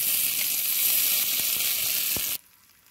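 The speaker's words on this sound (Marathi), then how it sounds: "मी जिरे मोहरीचा तडका देऊन घेते" Mustard seeds and cumin tempering in hot oil, a loud, bright, hissing sizzle with small pops that holds steady for a couple of seconds and then cuts off abruptly to near quiet.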